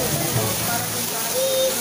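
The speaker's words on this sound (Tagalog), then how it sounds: "Lakas ng ulan." Heavy rain pouring steadily during a stormy day in Camarines Sur, a dense, continuous hiss close by with no breaks, and a faint voice murmuring underneath.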